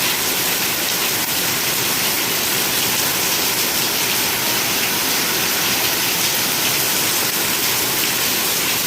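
Heavy evening rain pours down in a dense, unbroken roar of hiss and splatter that stays loud and even throughout, with no voices.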